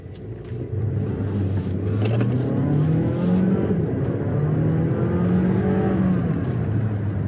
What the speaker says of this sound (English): I love that engine sound. That is a really good four-cylinder.